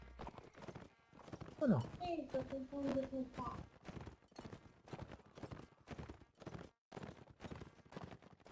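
Hooves clip-clop steadily in a video game battle, a continuous rhythmic patter with a brief horse whinny early on, heard under frequent voice-chat talk.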